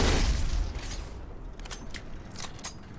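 Explosion blowing up a digger in the video game Black: a loud, heavy boom at the start that decays into rumbling debris and crackling, with a few sharper metallic cracks after.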